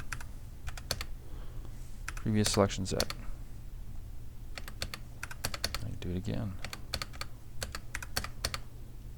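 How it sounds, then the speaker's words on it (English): A computer keyboard being typed on, probably while running AutoCAD commands: a steady stream of crisp key clicks, close and fairly soft, with someone talking over part of it. "Okay, see, I'm just hitting the keyboard."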